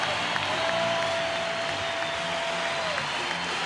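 An arena crowd at a 1989 NBA Finals basketball game between the Lakers and Pistons applauds and cheers in a dense, sustained roar, with a faint tone running beneath and a commentator's voice mixed in.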